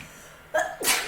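A single sharp sneeze close by, a short intake followed by a loud explosive burst.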